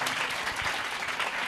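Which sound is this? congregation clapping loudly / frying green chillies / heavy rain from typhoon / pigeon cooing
congregation clapping loudly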